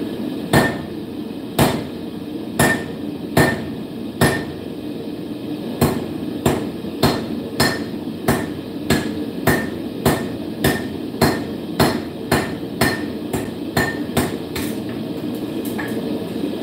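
A blacksmith forging steel hooks strikes metal on an anvil, a loud, close series of about twenty ringing hammer blows at a steady, unhurried rhythm over a low background hum.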